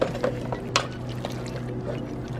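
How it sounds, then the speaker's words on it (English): Vegan mac and cheese cooking in a pan back on the heat gives a soft bubbling, sizzling simmer with a few faint pops and clicks, close up and steady. "That mac and cheese noise."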